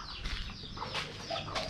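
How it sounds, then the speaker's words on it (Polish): Chickens and roosters, including small chicks, on a village chicken farm on a Thai island, with clucking and a brief wing flutter over steady outdoor ambience, moderately close. "zobaczcie sobie tutaj przykładowo też kurczaki, małe kurczaki, koguty."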